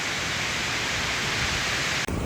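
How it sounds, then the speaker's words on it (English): Steady broadband rush of a waterfall on a mountain hike at Nambe, loud and continuous throughout, with a brief dropout near the end. "look at that beautiful waterfall"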